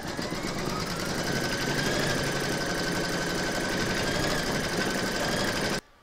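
An embroidery machine stitches an appliqué outline with a steady, rapid mechanical whir and buzz, running evenly for several seconds before cutting off abruptly, with no talking.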